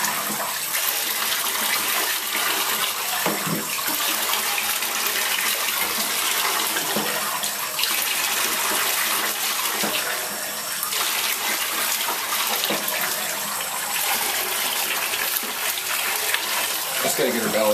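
Faucet water gushing steadily and loudly while a chocolate Labrador gets a bath, a continuous close splashing rush with no letup.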